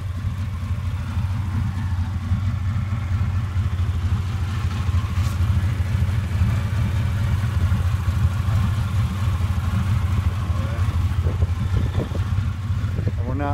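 A freshly repaired truck engine runs steadily, a low even drone with a rhythmic throb, close and continuous, with a few faint clatters and knocks toward the end.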